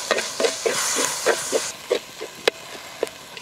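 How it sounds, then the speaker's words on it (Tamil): Tomatoes sauté in a pan with salt and turmeric, and a spoon stirs them in a steady run of soft scraping strokes over a light sizzle. "தக்காளி நல்லா வதங்கட்டுங்க."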